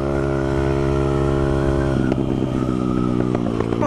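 Honda CRF100 dirt bike engine held at the rev limiter in fifth gear, a loud, close, buzzing steady drone that turns stuttery and choppy partway through as the limiter cuts in and out.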